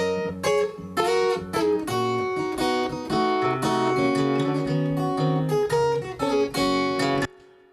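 Acoustic guitar captured through a built-in camera microphone with no EQ, strummed chords ringing loud and continuous with a boxy, low-mid heavy tone, a few sharp strums standing out before it stops abruptly near the end.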